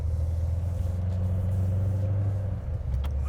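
A 2015 Corvette Z06 engine drones steadily under acceleration, recorded from inside the car, its low rumble holding loud and even with a slight dip near the end.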